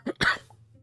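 Two quick, close coughs from a person playing an incremental farming game, the second harsher and longer, followed by near silence with a faint low hum.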